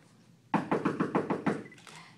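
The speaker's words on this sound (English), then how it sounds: "a wolf came to the door and knocked on the door" Knocking on a door: about eight quick, hollow raps in an even rhythm, close and fairly loud, with no talk over them.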